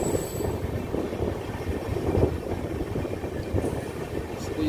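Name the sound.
train at Kharagpur station platform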